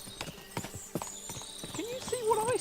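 Horses' hooves clip-clop steadily in Kingdom Come: Deliverance 2, a moderately close, even rhythm of hoof strikes, with a horse whinnying near the end and voices faintly in the background.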